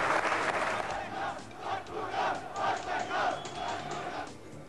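A TV studio audience in a 1995 Austrian sports program reacts with a swelling crowd roar of clapping and cheering, rising and falling in waves at moderate distance.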